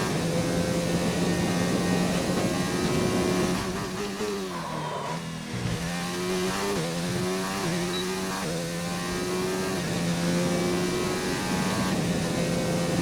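A 2019 McLaren Formula One car in a racing video game, its high-pitched engine holding steady near and loud for the whole stretch, pitch dipping briefly on a downshift and climbing again through the gears.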